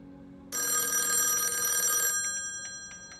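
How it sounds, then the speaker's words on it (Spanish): An old-style telephone bell rings loudly for about a second and a half, then its ringing rattles and decays in short repeated bursts. "Teléfono."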